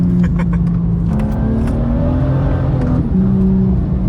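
Loud, close BMW M2 F87 engine drone with a deep intake roar that rises and falls in pitch as the revs change.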